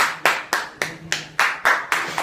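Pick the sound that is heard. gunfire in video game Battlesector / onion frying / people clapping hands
people clapping hands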